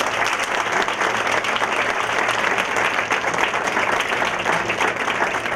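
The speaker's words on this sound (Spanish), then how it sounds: "Quiroz, Fausto Rosario y Juan Bolívar Díaz, con un fuerte aplauso." A university panel audience gives the panelists a loud, steady round of applause, dense and continuous throughout with no talk over it.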